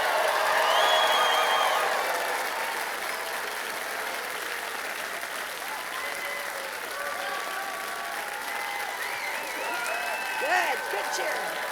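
An audience at a youth musical theater show cheers and applauds, with sustained clapping under high excited whoops and shrieks that rise and fall for over ten seconds and swell again near the end.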